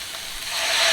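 Marsala wine poured into a pan of seasoned mushrooms, a short bright hiss that swells louder toward the end.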